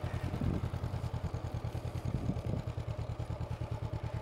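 A learner's motorcycle idles and putters with a steady low pulsing engine beat, close up, barely rising as it moves off slowly at low revs.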